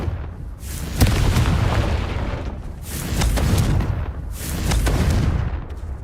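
Repeated Confringo spell explosions in Hogwarts Legacy, three heavy booming blasts at roughly even intervals, each with a sharp crack followed by a rumbling decay, loud and close with no talk.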